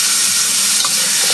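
Tofu and vermicelli sauté in a hot wok with a loud, dense, continuous sizzle and frying hiss, plus occasional soft stirring scrapes, close up and with no talking.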